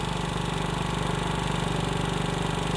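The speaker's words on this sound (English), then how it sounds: "she just hit low idle" A 2025 Wolf RX-50 50cc moped engine idles low and steady, a faint, even putter that holds a constant rhythm throughout with no voices.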